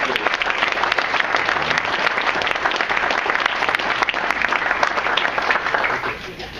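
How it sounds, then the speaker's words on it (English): An audience at the Florida Airboat Association Unity Weekend gives a round of applause, with loud, continuous clapping from many hands that holds steady before tapering off at the end. "I'd like to give them a round of applause"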